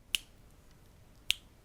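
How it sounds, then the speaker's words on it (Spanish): Two crisp finger snaps, sharp and close, about a second apart, with near silence in between. "Susan empieza a hacer chasquidos en plan"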